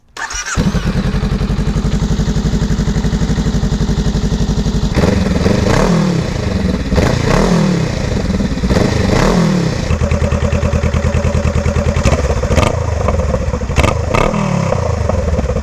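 A Honda Rebel 500 with its stock exhaust starts up and runs nearby, settling into a loud, steady idle before several throttle blips rise and fall.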